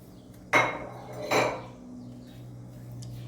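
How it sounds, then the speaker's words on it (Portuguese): A cooking pot handled on the stove while sausage goes in to boil, giving two sharp metallic clanks close together, followed by a low steady hum. "Nesta panela aqui eu vou colocar a nossa linguiça para dar uma ferventada."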